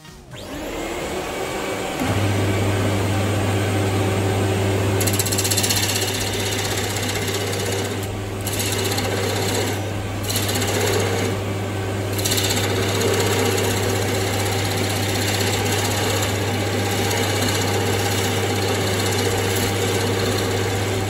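A wood lathe spins up and runs with a steady motor hum while a parting tool cuts a groove in the turning wood, adding rough, varying scraping under a constant high tone, close and continuous.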